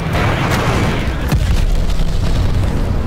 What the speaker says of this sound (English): Got an enemy glide bomb.